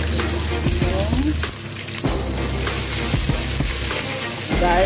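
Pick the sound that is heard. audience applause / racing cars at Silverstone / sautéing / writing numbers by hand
sautéing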